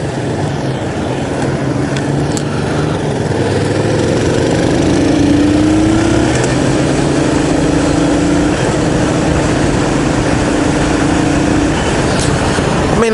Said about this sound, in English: That time the engine braking kicked in fairly decently.